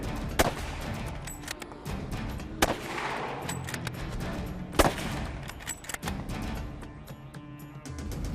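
Winchester rifle shots fired while hunting an Alaskan brown bear outdoors, several sharp loud cracks spaced a couple of seconds apart over wind and rustling, no speech.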